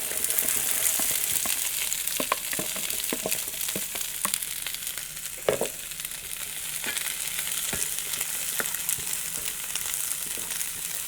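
Zucchini and corn frying with garlic in a pan, a steady close sizzle broken by light scraping stirs and small utensil taps throughout, with no voices.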